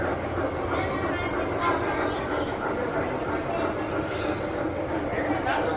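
A holiday model train runs at the Cincinnati Museum, giving a steady, continuous rolling rumble throughout, with people talking nearby over it.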